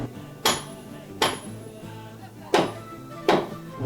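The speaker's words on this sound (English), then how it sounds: "Jade is so heavy, so dense that the hammers will bounce and sound like metal." Hammers strike dense, heavy jade four times, each blow a sharp, ringing metallic clink with a brief decay, spaced unevenly over a quiet room background.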